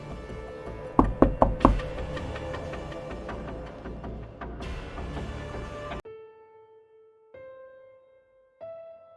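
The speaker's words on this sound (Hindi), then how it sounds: "किसी भी वक्त आपके दरवाजे पर भी दस्तक होने वाली होगी।" A burst of several sharp knocks on a door sounds early, loud and close, set within a dramatic horror soundtrack with sustained tones and a music sting.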